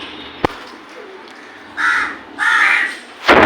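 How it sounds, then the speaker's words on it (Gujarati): Crows calling outdoors after a heavy morning rain, three loud harsh caw bursts spaced about half a second apart, with a sharp tap early on and a bright noisy burst at the end over quiet background. "કાગડા ને કબૂતર, કાગડા ને કબૂતર."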